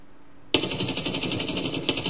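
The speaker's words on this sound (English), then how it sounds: "He's shooting pretty wild, though." Enemy player firing a rapid automatic weapon on the Shoreline map of a shooter game; a sudden, loud, tightly spaced burst of shots starts and continues steadily, with a second hit near the end.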